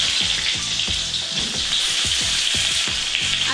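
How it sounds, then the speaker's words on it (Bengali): Potatoes fry loudly in hot oil with bay leaf, dried red chilli and cumin seeds, a steady close sizzle broken by repeated scraping stirs, with no voices. "এখন এই ফোড়নের সঙ্গে এই আলুগুলো খুব ভালো করে ভেজে নেব"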